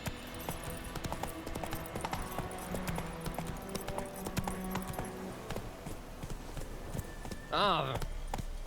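Roach, a horse in The Witcher 3, gallops with rapid, steady clip-clop hoofbeats, and a neigh comes near the end over game ambience, with a voice briefly talking.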